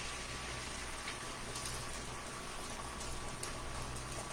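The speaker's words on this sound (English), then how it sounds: "So I'm going to pour those into my skillet." Beaten eggs hit a hot skillet with a steady, faint sizzle and crackle that holds evenly throughout with no talk.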